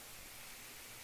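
Soft, even hiss of static from a 1959 Arvin AM analog clock radio, a faint broadband wash with no stations or voices breaking through during a brief moment of tuning.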